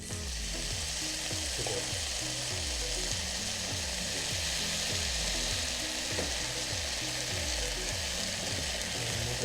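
Teriyaki glaze sizzles and fries loudly in a pan with seitan, a dense, continuous crackle with rhythmic scraping or stirring underneath, close and steady throughout.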